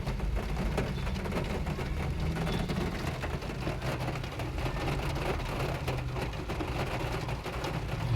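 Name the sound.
heavy rain pouring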